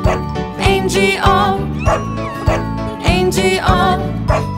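A dog barks in short rhythmic yips over a loud children's nursery song with singing and instrumental backing, the barks landing on the beat.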